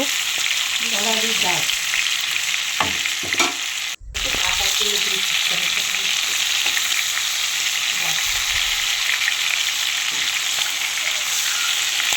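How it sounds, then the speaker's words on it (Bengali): Prawns rubbed with salt and turmeric fry in mustard oil, a steady close sizzle with a few stirring scrapes and clinks running throughout, briefly cut off partway. "ভালো করে ভেজে নিচ্ছি।"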